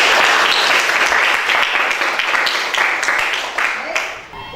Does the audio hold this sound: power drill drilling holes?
no